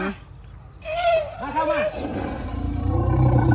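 Big cat roaring at a father's return, with strained, rising calls that swell and continue over a low rumbling background, while people chatter nearby throughout.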